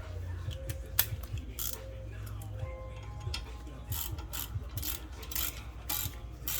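Ratchet wrench clicking in repeated bursts while tightening a bolt during a front brake pad and rotor job on a 2014 Chevy Equinox, close and fairly loud with metallic clatter between strokes.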